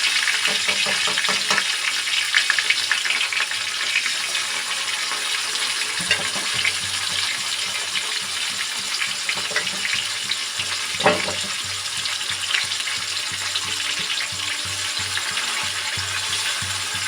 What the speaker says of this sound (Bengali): এবার এগুলো ফ্রাইয়ের জন্য কড়াইয়ের মধ্যে চলে যাচ্ছে।